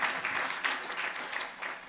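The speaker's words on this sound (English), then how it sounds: "that deserves a big clap" Audience clapping at a campus conference on the future of work, dense even applause from many hands filling the whole short moment at steady loudness.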